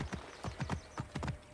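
Horse hooves clip-clopping at a gallop in the Assassin's Creed Origins video game, a quick repeated rhythm of hoof strikes heard up close with no talk over it.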